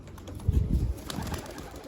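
A fifteen-year-old homing pigeon coos near a rooftop loft, a brief low murmuring burst that is close and moderately loud, then fades into quiet outdoor background.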